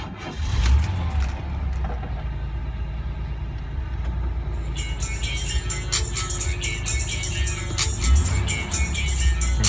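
A 1993 Chevrolet Lumina 3.1 engine idles steadily with a low rumble while its car stereo plays music over it. Faint talking is mixed in.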